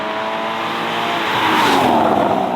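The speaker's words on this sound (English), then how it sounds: "it doesn't sound as exotic as this exhaust does." A Porsche Cayman fitted with an aftermarket exotic exhaust, its engine droning loud and close with a rising high-pitched wail as the revs climb.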